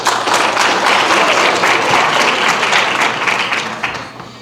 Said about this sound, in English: Another huge round of applause for our judges and tallier, Mrs. Peggy Stone.